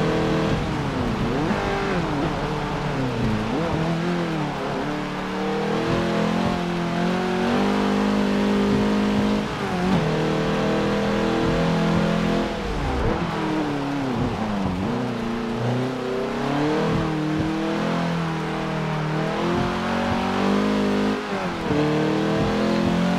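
A V6 car engine in Forza Motorsport 7 revs steadily, rising and falling through gear changes with a close, continuous drone and occasional tire noise, no voices over it.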